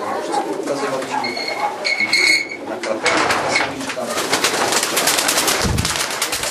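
Racing pigeons cooing in a loft, steady rumbling coos with occasional wing flutters and clatter, fairly close and continuous, with someone talking intermittently.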